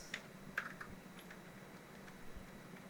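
Someone types on a computer keyboard, producing quiet, irregular key clicks close by against a soft steady room hum.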